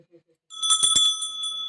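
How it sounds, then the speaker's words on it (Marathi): A small hand bell rings at a village Tulsi wedding puja in Konkan. After a brief quiet start, a rapid, bright jangle sounds close by for about a second and leaves a sustained ringing tone that fades slowly. "घंटा"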